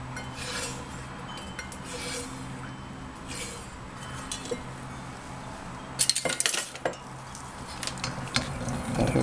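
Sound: stirring lye into soap batter

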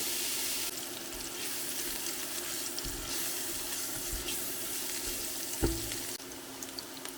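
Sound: onion frying in sunflower oil in a pan

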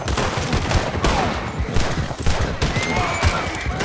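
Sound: gunfire in Red Dead Redemption 2 video game

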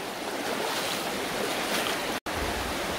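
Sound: river flowing beside a football pitch

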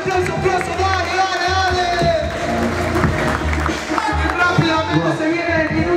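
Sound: audience applause at a freestyle rap battle

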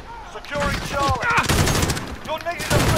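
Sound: gunfire from a weapon in a video game

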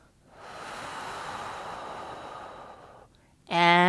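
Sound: exhaling breath during postnatal breathing exercise

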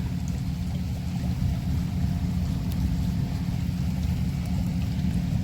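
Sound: water pump motor running to irrigate garlic field

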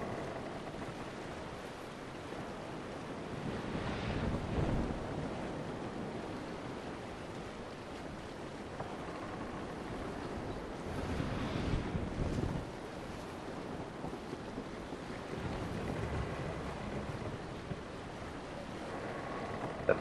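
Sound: wind and waves in a sailing simulator video game

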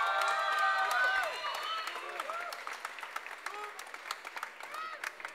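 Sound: audience applause at concert

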